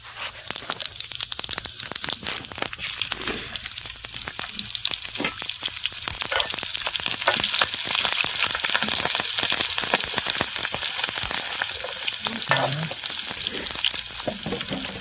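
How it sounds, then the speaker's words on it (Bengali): Cumin seeds, chilli and bay leaf sizzling in hot oil as a tempering for a fish curry. A close, crackling hiss with popping and spattering that grows fuller and louder midway and continues without talk. "তেল গরম হয়ে গেছে, ফোড়নে দিয়ে দেবো জিরে, ঝাল और तेजपत्ता।"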